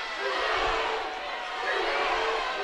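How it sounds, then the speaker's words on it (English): Swimming fans at the 2019 MAC Swimming Championships cheer steadily for their women's team, a continuous roar of crowd voices echoing in an indoor pool hall and mixed with distant shouting. "these fans of Messiah are cheering for their women, for their women's team"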